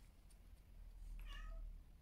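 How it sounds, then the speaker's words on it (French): A cat gives one short, fairly faint meow over a low background hum. "Vous entendez ma Mimi qui miaule?"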